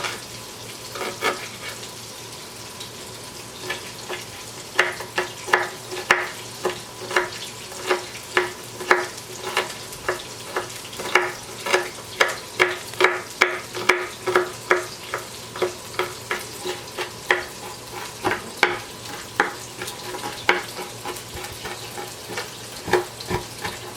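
Spiced turkey meatballs fry in a pan with a steady close sizzle, punctuated by a long series of regular sharp taps from knife chopping on a board nearby.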